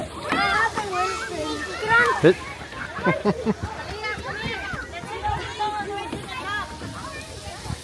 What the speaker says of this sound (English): Aaliyah, are you gonna go on the splash pad?